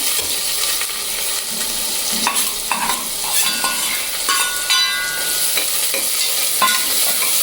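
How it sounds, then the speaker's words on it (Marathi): Onion fries in hot oil with mustard seeds and cumin, giving a loud, bright sizzle. Frequent scraping of a spatula stirs the pan throughout the 7.5 seconds, close up and with no talking. "कांदा चांगला परतून घ्यायचा अगदी दोन मिनटं तरी"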